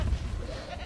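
Goats bleating inside the Jurassic World Evolution video game, a low, dense bleating that runs steadily through the short moment with no clear break, heard fairly close and alone without voices.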